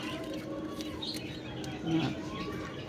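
Pigeons kept as pets coo and chirp close by, with soft throaty calls and a brief louder coo near the end over a quiet, slightly busy background.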